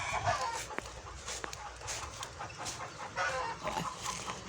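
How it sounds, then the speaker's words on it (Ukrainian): Hens cluck and cackle repeatedly, close by, with sharp bursts over a busy farmyard background. "Кури несуться і всі підспівують."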